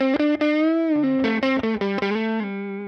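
Gritty, overdriven electric guitar through a UAD Woodrow '55 amp plugin, playing a short bluesy phrase with a crunchy breakup tone, loud and close.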